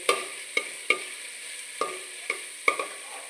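Ground masala for a Koddai fish curry frying in a pan, a steady soft sizzle broken by about seven sharp spoon scrapes and taps spaced through the stretch, close by, with no one talking.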